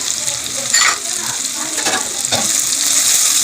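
Chopped onion, green chilli, ginger and garlic fry in hot oil in a pan for a Mughlai paratha filling, giving a loud, steady sizzle broken by a few scraping stirs.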